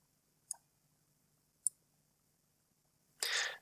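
Two sharp, faint computer mouse clicks about a second apart in a quiet room, followed by a brief burst of broadband noise at the end.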